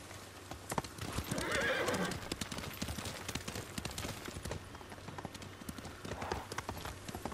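A horse in the video game Ghost of Tsushima, with a quick run of hoof clip-clops and a loud whinny partway through, followed by more scattered hoofbeats against faint ambient sound.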